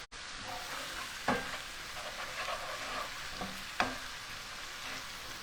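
Minced garlic sautéing in a pan gives a soft, even sizzle, with two sharper clicks of a utensil against the pan and faint scraping in between.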